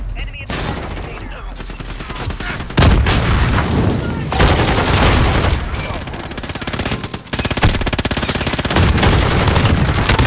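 Rapid video-game gunfire crackles loud and nearly continuous in long automatic bursts with brief gaps, layered over a game soundtrack, and someone talks intermittently through it.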